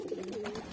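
Baby pigeons being fed by hand make soft, close cooing and squeaky begging calls in a short, continuous burst, with no talk.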